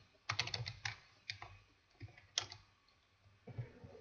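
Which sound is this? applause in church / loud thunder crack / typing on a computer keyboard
typing on a computer keyboard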